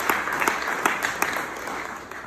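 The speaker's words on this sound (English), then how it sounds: "give a round of applause to these young brothers and sisters expressing themselves" A gathering in Seattle applauds young performers, a steady, fairly close patter of many hands clapping throughout, with a few louder individual claps standing out.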